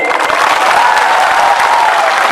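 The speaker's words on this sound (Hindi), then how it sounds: "ताली दीजिए इनको।" A dense, loud crowd applauds steadily throughout at a Tipra Motha political rally, the clapping close and continuous with cheering woven through it.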